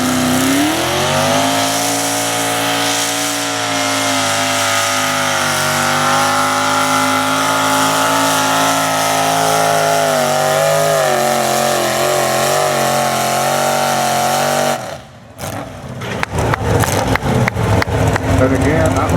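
A 1967 Chevy two-wheel drive super stock pulling truck roars loud and sustained at a truck pull, its engine holding a high droning pitch before cutting out abruptly, then sputtering and popping in rapid bursts.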